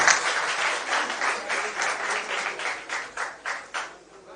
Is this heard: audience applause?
yes